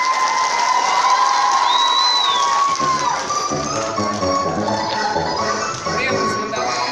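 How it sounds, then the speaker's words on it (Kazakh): At a school event, a crowd claps in a busy, uneven patter. Children shout and cheer loudly over the clapping, and a high whistle-like tone rises early on. "Тез шапалақ ұрып қойыңдар"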